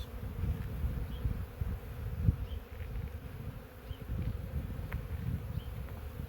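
Honey bees hum low and continuously around an open hive during a spring inspection and split, a close, rumbling drone that swells and dips slightly.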